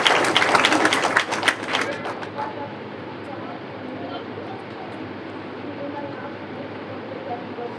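A church congregation claps together, a dense burst of applause near the start that fades within a few seconds into low room noise.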